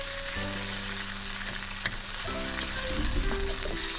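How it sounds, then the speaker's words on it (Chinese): Doubanjiang bean paste stir-fried over the lowest flame with scallion, ginger and garlic, a steady close sizzle of frying with scraping stirs and clinks of the spatula against the wok. "开最小火把豆瓣炒香"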